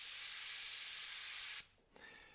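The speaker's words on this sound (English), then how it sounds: "So you really wanna keep the pressure down on the airbrush." An airbrush sprays paint at low pressure while filling shapes for a mural, giving a steady close hiss that stops abruptly, followed by a short, fainter burst.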